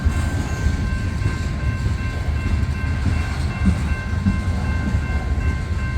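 CSX manifest freight train with two engines and over 130 cars rolling slowly uphill on the Old Main Line, a continuous heavy rumble of wheels and cars close by, with steady low clatter and a faint tonal hum.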